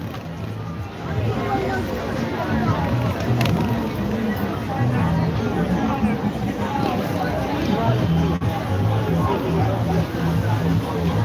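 Large crowd filling an arena at a PNP political conference in Jamaica, a dense, steady babble of many voices that stays loud and continuous throughout.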